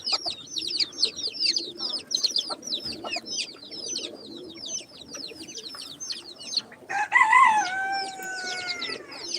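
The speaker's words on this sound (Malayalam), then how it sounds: "ഫാൻസി കോഴി കൂക്കുന്നുണ്ട്" A fancy rooster crows loudly near the end over a busy backdrop of chickens clucking and chirping continuously, with other poultry calls close by.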